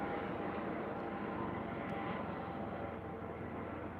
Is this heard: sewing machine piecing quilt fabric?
no